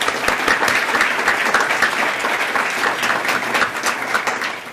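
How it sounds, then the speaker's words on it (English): A seated audience at a medical forum claps for sponsoring partners, a loud, dense and even round of applause that holds steady throughout before tapering slightly at the end. "Please give a round of applause for those partners."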